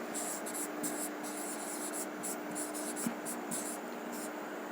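A teacher's pen scratching out notes in quick short strokes, faint and close, with a quiet room tone in the background.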